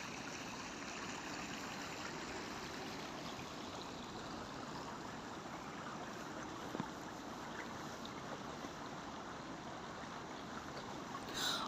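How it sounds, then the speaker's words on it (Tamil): Water runs beneath the snow-covered surface of a small frozen river in Canada after snowfall, a steady faint rushing that holds unbroken throughout with no voices. "மேலே மட்டும்தான் ஸ்னோ விழுந்து அது மூடி இருக்கோ தவிர கீழால் தண்ணி ஓடிட்டு தான் இருந்தது."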